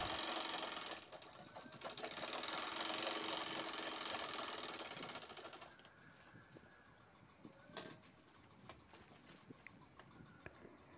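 A sewing machine topstitching a handbag runs in a loud, steady whir for several seconds, then stops, leaving faint clicks and handling sounds.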